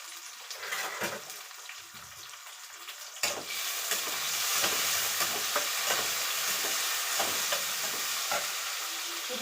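A single tomato and a few sprigs of coriander fry in a pan with a steady, loud sizzle, broken by scraping stirs throughout; no one speaks.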